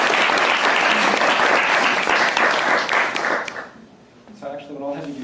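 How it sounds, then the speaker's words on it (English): A crowd applauds loudly and steadily for several seconds before the clapping dies away and a voice begins speaking. "We have a round of applause for Christina."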